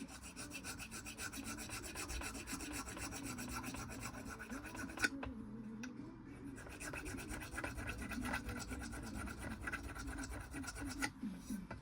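A tiny metal hand file rasps steadily against the painted engine block of a barn-find Vauxhall Nova, close and continuous back-and-forth strokes with a brief pause midway, no speech.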